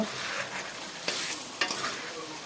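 Spice paste frying in a pan for a rohu fish curry, a loud, constant hissing sizzle up close, with a few brief scraping strokes from stirring and no voices.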